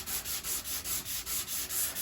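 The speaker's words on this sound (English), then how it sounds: "So I'll just carry on sanding a bit deeper." Body filler on a Jeep Patriot is sanded by hand in a steady rhythm of about eight close, even rasping strokes, with no talking.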